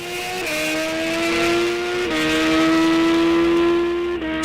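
Snowmobile drag racing run on a 1995 Polaris: a loud, sustained high-pitched two-stroke engine wail held steadily near the listener, with brief pitch drops at shift-like changes and no talk.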